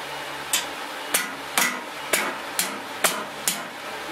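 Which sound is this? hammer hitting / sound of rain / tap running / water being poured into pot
hammer hitting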